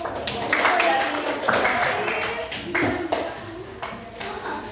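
Students in a classroom clap for a group, a scattered patter of hand claps rising and fading in several bursts, with voices mixed in.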